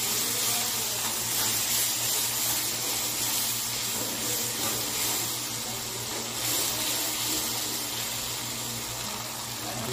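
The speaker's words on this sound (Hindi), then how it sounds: "थोड़ा सा अब हम इसमें पानी ऐड कर देते हैं ताकि प्याज गल जाए।" Water poured into a hot pan of frying onions gives a steady, broad hiss and sizzle that stays even and fairly loud for the whole stretch, with no talking.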